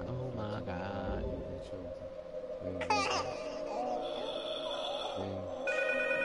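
A telephone rings in a horror video game, its bell tone repeating in short bursts over tense ambient sounds.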